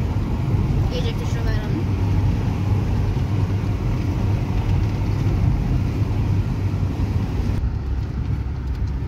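A car drives along a road, a steady loud engine and tyre rumble that holds throughout while people talk over it.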